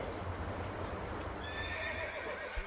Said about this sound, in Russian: Вот это наша лошадь, брат? Да, это лошадь ваша.